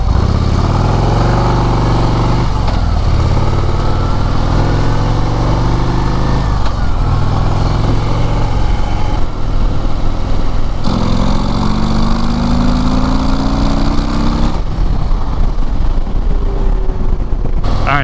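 Harley-Davidson 2024 CVO ST motorcycle leaning through a curve, with a loud, steady engine drone and rising, falling revs over strong wind rush throughout.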